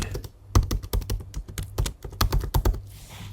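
Quick bursts of typing on a computer keyboard while making a poster in Pages, the keystrokes close and crisp in irregular clusters, with one short pause before a final run of taps.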